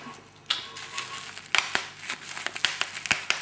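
A gift package being unwrapped, with crinkling and crumpling paper and sharp tearing rustles arriving in irregular bursts, close and fairly loud, without talking.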